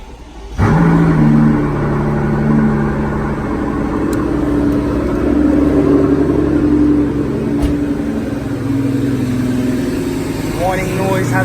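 A Mercedes SL65 engine cranks and catches about half a second in, then settles into a steady, loud, close idle with a faint bit of rev variation, after a secondary air pump replacement.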